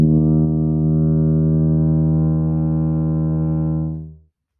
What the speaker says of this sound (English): it's also transposed down 2 octaves